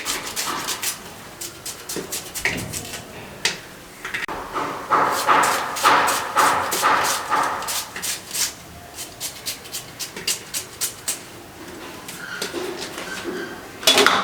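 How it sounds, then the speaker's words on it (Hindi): An onion is chopped with a knife directly inside a metal pressure cooker, giving a fast run of sharp close-up knocks and thuds in uneven bursts with short pauses, no talking. "ये प्याज, इसको डायरेक्ट इस बर्तन में मैं काट रहा हूँ, प्रेशर कुकर में।"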